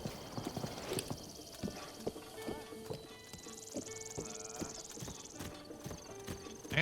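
Hooves of a horse ridden in the video game Zelda: Breath of the Wild clop in a steady rhythmic gallop, with a brief whinny, while a voice talks over the game sounds.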